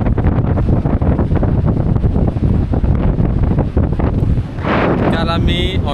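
Strong wind at Aarewari beach buffets the microphone in loud, continuous gusts, with a roar of surf beneath and a short burst of voice near the end.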